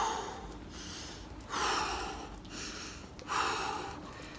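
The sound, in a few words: breathing in and out during exercise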